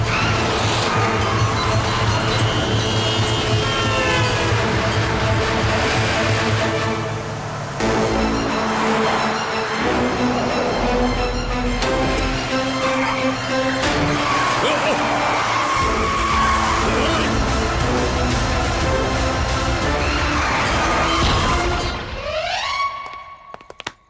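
Cartoon car chase with tyres skidding and screeching loudly and continuously over engine roar and dramatic music, with excited voices shouting throughout and a final rising whoosh.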